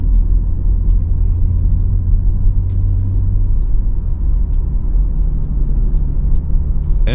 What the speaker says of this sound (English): I'm still gonna give you guys this POV so you guys can see what it's like to drive the M3